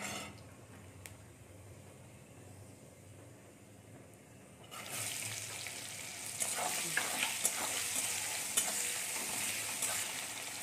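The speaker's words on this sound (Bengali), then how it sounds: "পেঁয়াজটা একটু হালকা করে ভেজে নিই" Quiet kitchen noise gives way to loud, bright sizzling as onions hit hot oil with cumin, with stirring scrapes and crackles continuing.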